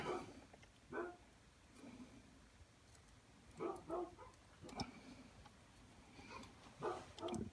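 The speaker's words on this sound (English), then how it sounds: "Yeah, dogs are barking." Dogs bark outdoors in a handful of separate short bursts, moderately distant, over a quiet background hum.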